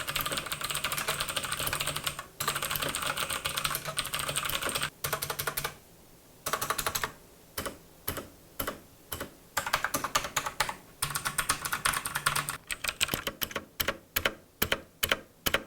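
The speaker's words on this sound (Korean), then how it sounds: "자, 그럼 타이핑을 한번 알아보죠." Typing on a Thinkway Tiny Mech mechanical keyboard, close up: fast bursts of clicky keystrokes that break into separate, spaced taps toward the end.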